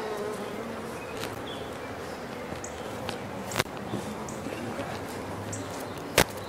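Honey bees swarm and hum steadily around an opened hive holding a full frame of honey, a dense continuous buzz with a couple of sharp clicks and knocks from handling the hive.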